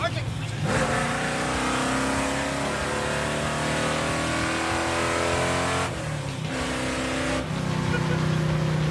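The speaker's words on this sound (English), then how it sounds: "I'm gonna lay down some RPM." A 1957 Chevrolet Bel Air's engine revs loudly and steadily up close, its pitch climbing and settling across several throttle pulls with brief dips between them. Voices can be heard.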